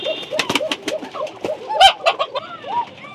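Pigeons coo repeatedly at a pigeon farm, a close, dense chorus of throaty rolling calls overlapping one another, with a louder burst near the middle and no talking.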